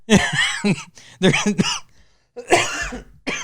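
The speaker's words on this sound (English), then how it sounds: "Sorry, I keep coughing." Someone coughs several times in quick bursts, harsh and close, with short pauses between the fits.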